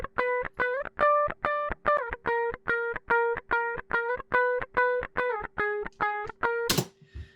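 A dry, unprocessed electric guitar plays a steady run of evenly spaced plucked notes, thin and close, ending with a brief noisy scrape.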